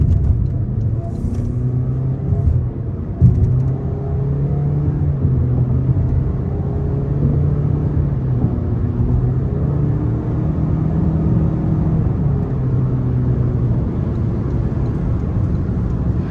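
A 2025 Toyota Corolla LE with a continuously variable transmission pulls hard from inside the cabin, giving a steady droning engine note with a slowly rising pitch under road rumble.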